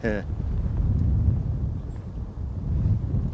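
Gusty wind roars and buffets the microphone outdoors while a small RC model plane hovers overhead, a low rumbling rush that rises and falls throughout.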